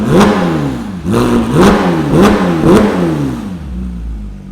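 A Porsche GT3 engine with a new loud aftermarket exhaust revs hard in four quick, evenly spaced blips, each rising sharply and falling back, loud and close, then settles into idle.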